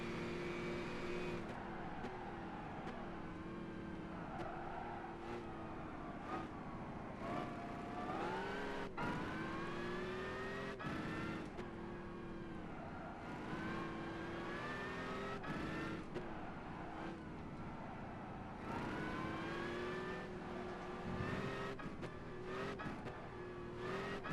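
Race car engines in Gran Turismo 5 drone and whine continuously, rising and falling in pitch through repeated gear shifts and revs, loud and steady with no talk over them.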